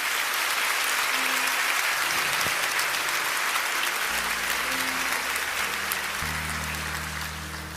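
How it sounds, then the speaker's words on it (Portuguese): Loud, sustained applause from a church congregation fills the space, a dense wash of clapping with low music tones entering underneath in the second half. "Você pode aplaudir o Senhor por isso?"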